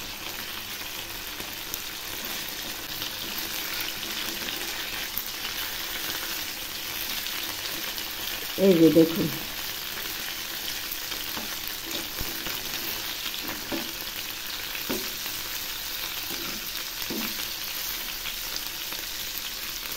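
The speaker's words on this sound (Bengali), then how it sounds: "এই মাছগুলো আমি একটু হালকা করে ভেজে নেব, খুব একটা কড়া ভাজব না।" Chitol fish frying lightly in a pan, a steady close sizzle running throughout, with a brief louder burst of spattering partway through and a few soft clinks, under a couple of spoken words.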